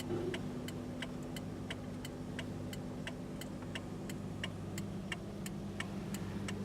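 Steady road traffic rumbles at the intersection of Trout Gulch and Cathedral in Aptos, with a constant low engine drone and a regular ticking, likely a turn signal, repeating throughout.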